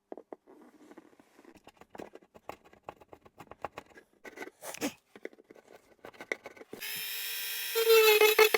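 A router cuts wood from the top of a Höfner 489 acoustic guitar to seat a bridge. Scattered taps and scrapes come first, then the tool whines up loud and steady near the end.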